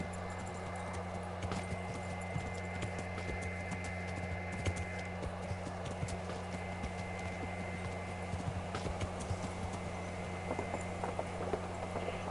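A horse's hooves clip-clop in a steady, even rhythm in the medieval video game Kingdom Come: Deliverance, with a constant low hum running beneath them and no talking.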